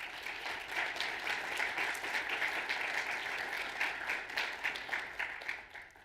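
A steady round of applause from the audience at a high school technical honor society induction ceremony for industrial trades, sustained and even-paced throughout with no talking.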